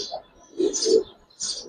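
Giribaz and coloured pigeons give soft, close coos in a quick pair of throaty calls, with faint higher chirps between them in a quiet loft.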